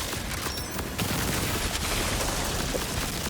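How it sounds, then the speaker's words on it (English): Parasite gun in Borderlands 4 with a Ripper magazine firing at a very fast rate, a dense continuous burst of gunfire with no gaps, loud and alone. "It shoots super fast with a Ripper magazine."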